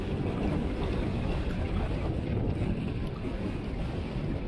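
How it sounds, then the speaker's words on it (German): Strong wind sweeps across an Icelandic stone desert, a loud continuous roaring buffet against the microphone with no voices. "Aber es ist halt so windig"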